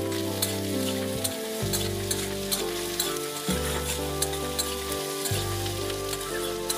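Potatoes frying in oil sizzle loudly and continuously up close, broken by repeated stirring clatters as they are turned in the pan. No one speaks.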